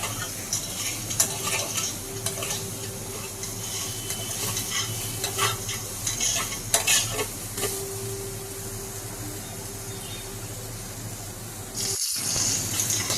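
Soybean chunks sizzle steadily in hot oil in a wok while a spatula stirs and scrapes them with intermittent clanks, continuous close frying with no voices.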